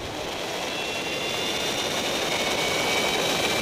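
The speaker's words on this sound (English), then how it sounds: "Hear the sounds on board Branetti's bike" Onboard sound from the CRP electric racing motorcycle in the 2011 FIM e-Power International Championship: a steady, loud, airy high-pitched whine with broadband wind rush that builds slightly over the run.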